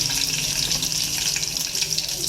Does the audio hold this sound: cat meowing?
no